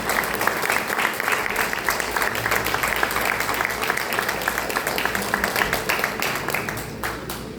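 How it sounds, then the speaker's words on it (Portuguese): Congregation at a church service applauding in praise, a dense, steady crowd clapping sustained throughout before thinning slightly at the end. "uma linda salva de palmas para o Senhor Jesus"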